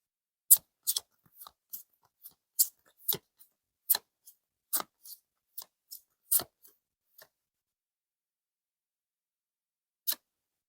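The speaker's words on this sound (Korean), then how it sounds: "그 질문에 대한 답변은 카드를 한 번 더 뽑아보고" Tarot cards snapped and dealt in a quick run of about fifteen sharp, crisp flicks over roughly seven seconds, then a pause and one last isolated snap, close and clear with no talking.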